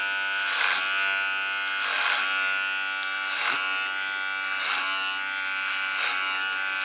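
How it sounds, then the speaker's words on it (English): Electric hair clipper buzzing steadily while trimming short hair along the neckline and contour, with a few rhythmic swells as the blade passes over hair, close and alone without talk. "Put my clipper in a common position again"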